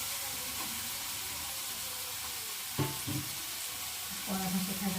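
Prawns frying in a pan for a home-cooked shapla recipe, a soft continuous sizzle heard faintly throughout, with a few clinks and stirring knocks near the end.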